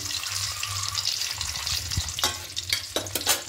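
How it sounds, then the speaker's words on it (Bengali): Eggs frying lightly in a pan sizzle steadily up close, with a few sharp scrapes and clicks of a spatula toward the end. "দেখুন ডিমটা হালকা করে ভেজে নিয়েছি।"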